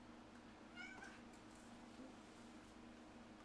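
Domestic cat giving one short meow, faint and somewhat distant over a steady background hum, then a quiet stretch.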